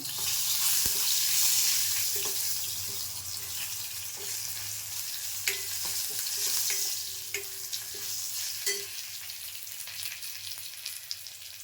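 Asafoetida, curry leaves and green chillies tempering in hot oil for tomato kadhi, a steady bright sizzle with crackling pops and occasional stirring clinks, close and continuous without talk.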